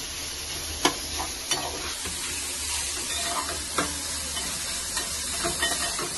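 A coconut masala being stir-fried in a pan, a steady close sizzle and hiss with occasional scraping stirs and soft taps of a utensil against the pan.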